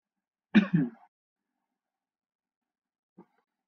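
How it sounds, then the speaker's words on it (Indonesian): One short, close cough in a quiet room, followed after a pause by a faint second small sound. "saya agak batuk."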